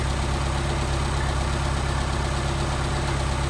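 A car engine idles steadily at about 800 RPM after a Solex carburetor rebuild, giving a close, even, continuous rumble with no talk.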